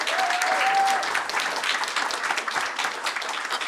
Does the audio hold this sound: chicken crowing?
no